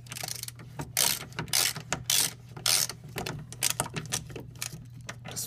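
Hand ratchet clicking rapidly as it turns a heavily corroded bolt during front strut replacement on a Hyundai Elantra, in uneven bursts of sharp ratcheting close by.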